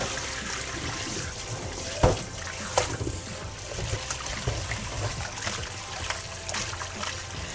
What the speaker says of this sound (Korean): 그래서 찬물에 헹궈가지고 스코리에 받쳐주세요.